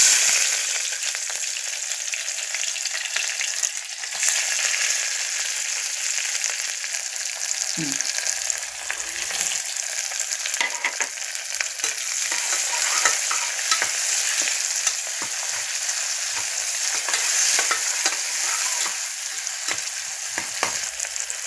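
Onions frying in hot oil with bay leaf, cloves and mace, a continuous loud hiss and sizzle close up, with occasional clinks of a spoon stirring the pan.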